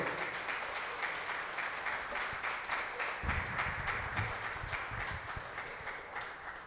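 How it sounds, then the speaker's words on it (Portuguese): A church congregation claps steadily in praise to the Lord, a dense, even wash of many hands that holds throughout, with some low thumps and shuffling joining midway. "Dê uma linda salva de palmas ao Senhor."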